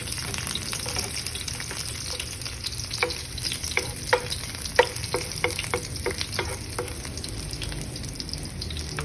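Garlic sautéing in a pan for ginisang patola, a Filipino sponge gourd and pork dish: a steady oily sizzle with scattered sharp pops and crackles, and occasional scrapes as it is stirred. The sound is close and continuous, with no talking.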